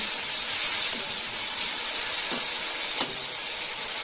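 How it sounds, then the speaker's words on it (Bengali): Shrimp, about 200 grams, frying in hot oil in a pan, giving a steady, close sizzling hiss that runs throughout with a few brief spattering pops, and no talking. "চিংড়ি মাছটা একটু ভালো করে ভেজে নেব।"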